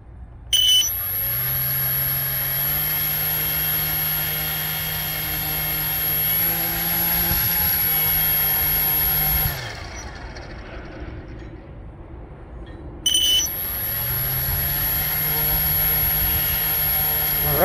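A 3D-printed Hamilton Standard 11x6 propeller on a thrust test stand whirs steadily with a rising motor whine, drops away briefly mid-run, then spins back up, loud and close.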